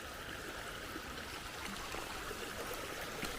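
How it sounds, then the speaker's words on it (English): Clear spring-water mountain stream along a high trail, rushing and trickling steadily at close range with a constant broad wash of flowing water and no voices. "Clear, clean, fresh spring water, running water, streams that flow down into larger rivers."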